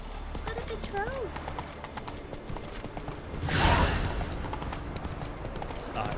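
In The Witcher 3 on Xbox One, the horse Roach gallops with rapid, steady hoofbeats and snorts, a whinny rising partway through, while someone talks over the action.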